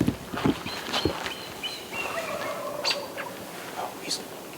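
Merriam's turkey gobbling in mountain country during a hunt, a short burst of bright, rattling calls sounding fairly near, followed by a few thinner chirps and calls of other birds.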